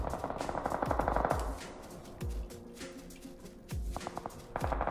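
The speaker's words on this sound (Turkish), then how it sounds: "Sağda galiba gazın içinde çatışma var." Automatic gunfire in a PUBG firefight, rapid bursts of shots with sharp reports, moderately loud and spread across the clip, alternating with brief pauses.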